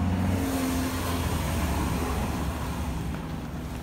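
A car's engine strains on a steep uphill road toward a Sochi skypark, a heavy low droning rumble with wind noise, continuous and close, fading slightly toward the end, with no talk.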